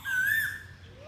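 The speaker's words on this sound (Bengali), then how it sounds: "কোকিলের ডাক সুমধুর কণ্ঠে" A cuckoo gives a single clear whistled call near an old temple and tamarind tree in Santipur, Nadia; the call is brief, fairly close and rises before fading over quiet background.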